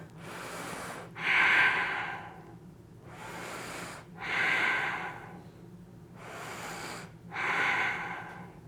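Three slow, audible breaths during a chair yoga session, each a long inhale followed by a louder, breathy exhale, evenly spaced and close, with no talking.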